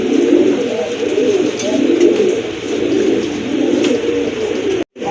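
A pair of pigeons, a male and a female offered for sale, coo steadily in low soft throaty rolls, close and continuous for several seconds before a brief dropout near the end.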